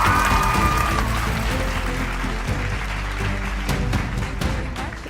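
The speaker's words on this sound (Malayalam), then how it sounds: "സോ നല്ലൊരു കയ്യടി നൽകിക്കൊണ്ട് നമുക്ക് നേഹനെ വേദിയിലേക്ക് സ്വാഗതം ചെയ്യാം." A studio audience at the Dazzler Super Sundhari grand finale claps steadily to welcome actress Neha Saxena onto the stage. The applause is a dense, sustained patter that holds for the whole stretch and eases slightly toward the end.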